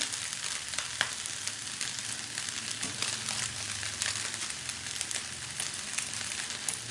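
Indomie seasoning hits the hot pan and fries with a continuous, even sizzle and light crackle, fairly close and quiet, with no talking.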